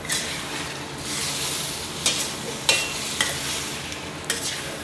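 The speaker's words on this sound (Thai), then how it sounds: "เราจะผัดกระดูกที่โครงนะครับ ที่เราตุ๋นเอาไว้นะครับ ให้มันเข้ากับพริกแกงนะครับ" Stewed pork ribs being stir-fried with spicy curry paste sizzle steadily in a hot pan, with a spatula scraping and knocking every second or so over the continuous frying hiss.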